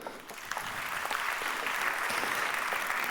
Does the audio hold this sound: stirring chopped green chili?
no